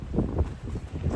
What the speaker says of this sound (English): Very strong winds.